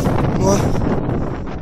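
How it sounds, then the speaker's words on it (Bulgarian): Strong wind roars loudly and close across the snowy peak of Kom, a dense, buffeting rush with a brief voice cutting in. "Много студено, много ветровито"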